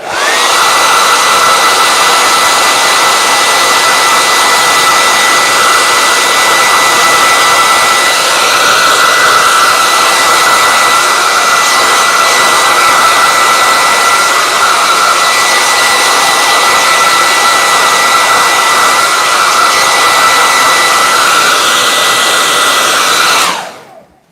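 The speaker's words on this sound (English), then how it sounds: "whenever I turn the hairdryer on, all of the small pieces of collage go flying" A hair dryer blows loudly and steadily for a long stretch, a constant whooshing whine that cuts off abruptly at the end.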